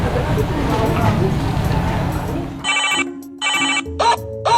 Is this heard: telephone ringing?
yes